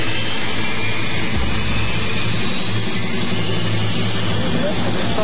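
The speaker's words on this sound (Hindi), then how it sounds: "जेट इंजन्स फेंस से सिर्फ 200 फुट की दूरी पर स्टार्ट होते हैं।" Jet engines roaring loudly beside an airport fence, a constant dense rumble throughout with someone narrating over it.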